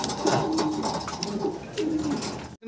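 Fancy Andalusian-colored pigeons cooing close up, several soft throaty coos repeating over a couple of seconds, with no voices.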